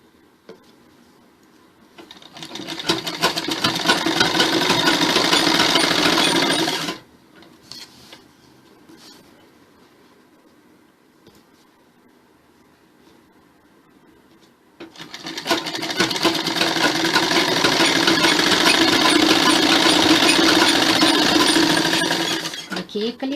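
A sewing machine stitches a salwar panel in two loud, steady bursts of rapid mechanical whirring, separated by a quieter pause of several seconds.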